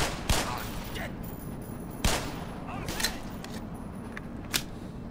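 Soldiers fire on the player in Black Mesa, a few sharp separate gunshots spaced over several seconds against a low background rumble, with no speech between them.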